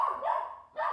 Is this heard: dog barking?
yes